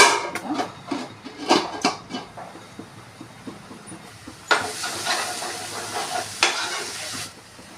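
Fish curry sizzling in a pan while salt is stirred in, with repeated scraping strokes of a spoon against the metal over a constant frying hiss, close and fairly loud, no speech.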